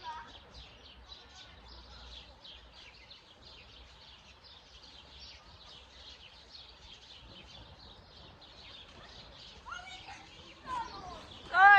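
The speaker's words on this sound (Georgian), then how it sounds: "ჩიტები ჭიკჭიკებენ" Faint birds chirp and tweet continuously in the background while children talk and play, the voices growing louder at the end.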